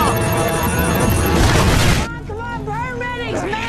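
A bomb blast in an action film, a dense roaring boom filling the first two seconds, loud and close, then cutting to quieter tonal sounds and talk.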